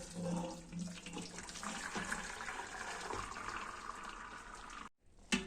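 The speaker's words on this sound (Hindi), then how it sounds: "हम ये पानी अब निकाल लेंगे" Hot water draining off freshly boiled chow mein noodles in a pan, a steady close splashing pour lasting several seconds, cut off by a brief silence and a final clatter.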